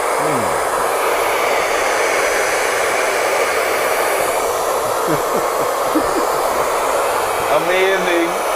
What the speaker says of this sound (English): And then I would use the blow dryer